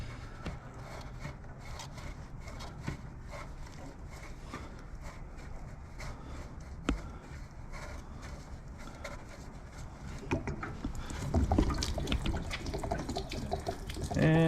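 Water draining and splashing from an RV water heater in a steady, rushing flow that grows louder and fuller toward the end, with faint handling noises.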